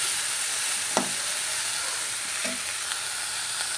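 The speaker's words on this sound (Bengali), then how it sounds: "আর গ্যাসে এই যে তিতো বসিয়েছি" A bitter vegetable dish (tito) cooking in a pan on a gas stove, giving a steady hiss and sizzle throughout, with a few faint knocks and taps from the kitchen.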